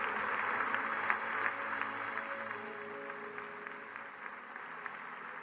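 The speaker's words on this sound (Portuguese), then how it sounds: "Alguém pode dar um aplauso bem forte ao Senhor Jesus?" A church congregation applauding, a sustained crowd of hands clapping at moderate loudness that goes on throughout, with a tonal musical hum underneath.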